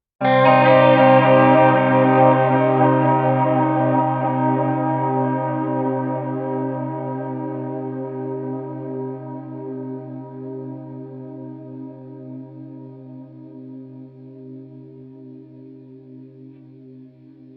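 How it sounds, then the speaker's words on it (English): One long, smeared guitar chord from a guitar pedal, time-stretched in Kontakt, drones on and slowly fades, thick with chorus and distortion, an ambient pad sustaining alone for many seconds. "I'm making a long ambient drone pad type of sound"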